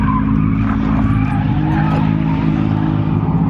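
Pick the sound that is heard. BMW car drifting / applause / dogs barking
BMW car drifting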